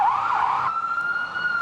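Ambulance siren wailing steadily amid crowds fleeing an emergency evacuation, a sweeping tone that settles into a sustained high wail, loud and close with no voices over it.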